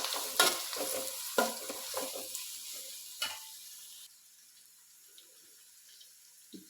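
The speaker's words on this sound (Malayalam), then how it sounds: "ചെറുതായിട്ട് ഈ സവോള ഒന്ന് വഴറ്റിയെടുക്കാൻ വേണ്ടി മാത്രം" Onions sauté in a pan, a soft sizzle heard under several scraping, tapping stirs close by in the first half before the cooking quiets to a faint hiss with occasional small clicks.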